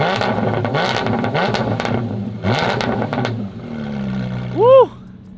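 A Porsche GT4 RS with a JCR exhaust revs hard in repeated loud bursts, climbing and dropping, then settles to a steady idle, with a short whooping sound near the end.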